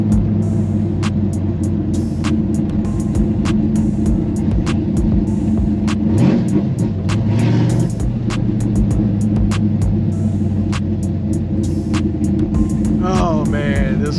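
A 1969 Plymouth Road Runner with a 660-horsepower Mopar V8 rumbles loudly from inside the cabin while driving, a deep steady engine drone with brief revs and occasional clicks, voices faint beneath.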